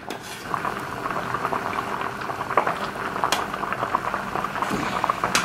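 Walnut spoon-sweet syrup with lemon juice at a steady rolling boil in a pot, a continuous bubbling hiss with frequent small pops and gurgles, close and fairly loud with no talk.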